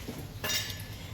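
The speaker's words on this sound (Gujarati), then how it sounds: "હવે આપણે આ તપેલી લઈશું।" Stainless cooking pot lifted and handled while making sabudana kheer, a short metallic clank and clink at close range, alone with no talk.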